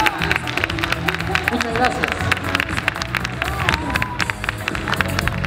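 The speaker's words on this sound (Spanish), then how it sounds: "Un gran aplauso, por favor." A crowd at a school charity evening giving applause, sharp irregular claps and cheers over background chatter, with a brief spoken word in the middle.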